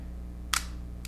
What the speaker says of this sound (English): You would then arm your shutter like this